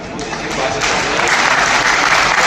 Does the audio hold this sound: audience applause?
yes